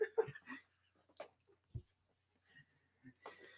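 A dog gives a few short, soft whimpers and whines in a quiet room, scattered among small rustles and pauses, close by and faint.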